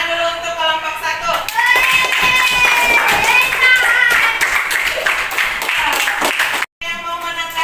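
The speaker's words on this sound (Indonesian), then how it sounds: "Tepuk tangan dulu untuk kelompok 1." A classroom bursts into sustained clapping for a group presentation, many hands at once with some voices mixed in, fading out briefly near the end before starting again.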